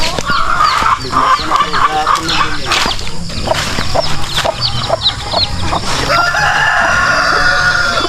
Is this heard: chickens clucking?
yes